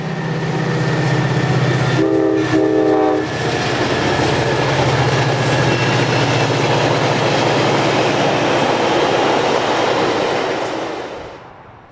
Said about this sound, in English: Train 5 passes the siding at Midway and crosses Patterson Pass Road on its way west.